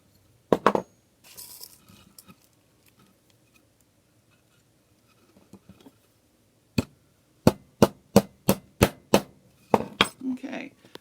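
Metal tin being hammered down over its edge for tin art, a series of sharp, bright metallic strikes at an even pace after some earlier scattered taps and handling noises.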